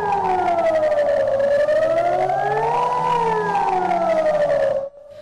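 Civil defense sirens of the Protezione Civile sound a toxic-cloud alarm, a loud, steady wail that rises and falls in pitch for about five seconds before cutting off abruptly, with no voices.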